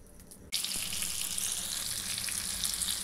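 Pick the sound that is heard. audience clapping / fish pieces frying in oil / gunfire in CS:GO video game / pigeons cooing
fish pieces frying in oil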